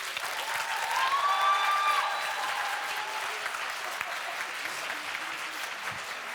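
A conference audience claps to vote in a debate on AI and education, a moderately distant, steady wash of applause from a full room lasting several seconds.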